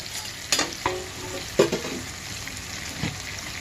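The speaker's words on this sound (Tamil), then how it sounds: "தக்காளி போட்டுட்டு நல்லா வதக்கிக்கோங்க" Tomatoes and onions are stirred in a hot pan for mutton gravy, giving a low steady sizzle broken by a few sharp scraping and clattering strokes of a spoon against the pan.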